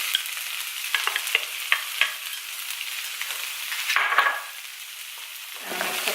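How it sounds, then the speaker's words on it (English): Mushrooms and zucchini hit a pan of browned onion and olive oil, sizzling and frying steadily while a utensil scrapes and stirs in repeated clattering strokes, close and fairly loud with no talk. "So now I'm gonna add the mushrooms and zucchini."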